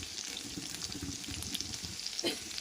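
Brinjal with garlic and chilli frying in a pan, a close, steady sizzle with light scraping stir strokes throughout the short stretch.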